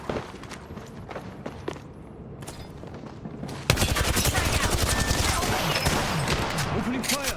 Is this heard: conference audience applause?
no